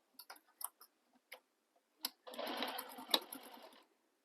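A sewing machine stitching a stocking gives a soft, close run of rapid mechanical whirring for about a second and a half, preceded by scattered small clicks and taps, fairly faint overall.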